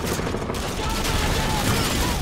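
Dense, continuous gunfire in the Modern Warfare 2 campaign, a steady loud barrage of overlapping shots with no clear gaps, filling the whole stretch as a battle rages.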